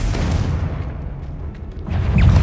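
A Confringo blasting spell from Hogwarts Legacy detonates as a loud, low booming explosion with a rumbling tail, followed by a second heavy blast near the end.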